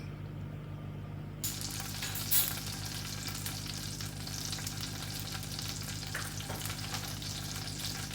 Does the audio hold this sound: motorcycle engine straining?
no